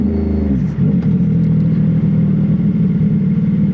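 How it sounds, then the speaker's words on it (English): A CFMoto 675SS motorcycle fitted with an aftermarket exhaust drops from a brief rev into a loud, close, rumbling, lumpy idle that holds steady with no talking. "oh, this bike sounds so good with this exhaust on"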